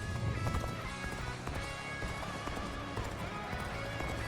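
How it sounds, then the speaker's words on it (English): Galloping horses thunder in a dense, continuous clatter of hooves in Dynasty Warriors Origins, loud and steady throughout, blended with battle noise and no voices. "Didn't see that there was gonna be a bunch of horses behind them."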